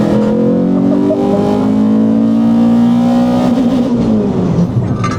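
Project car engine revving hard with heavy induction noise, a loud, sustained roar that rises in pitch, holds steady and then falls off, heard from inside the car with no talking.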